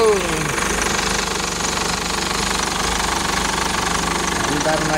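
A Hyundai Tucson engine runs right after starting, idling with a rough, rapid knocking rattle close by, as people talk over it.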